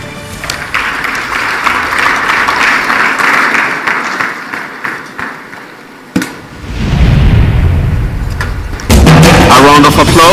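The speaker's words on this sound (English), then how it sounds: "A round of applause." An audience at a state energy summit in Tanzania applauds in a loud, sustained wash of clapping that swells and fades. A sharp bang and a burst of noise follow, then intense clapping returns near the end.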